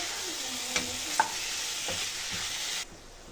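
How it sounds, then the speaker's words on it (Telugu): Boiled chicken being stirred into biryani masala in a cooking pot, with scraping spoon strokes and a soft sizzle running steadily for a few seconds before cutting off, no talking. "ఈ చికెన్ అంతా బాగా కలుపుకోవాలండి, మసాలా అంతా బాగా పట్టేలాగా."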